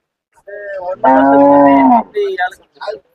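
A cow at the Karungalpalayam cattle market lets out a loud, close moo: one long, full-throated call followed by a couple of shorter grunting bellows.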